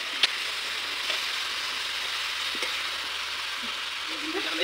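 Meat fries in a pan over a stove at an outdoor picnic, giving a constant, fairly loud sizzling hiss. A few faint clicks and knocks come through, and there is no talk.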